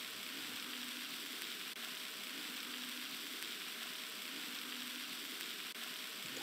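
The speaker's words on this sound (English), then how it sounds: "Have you ever tried to make a game with a looping sound effect, but then it sounds like this?" Continuous looping ambience playing in Scratch, a steady broadband sizzling wash like rain or frying, loud and even with a faint periodic dip where the loop restarts, no voices.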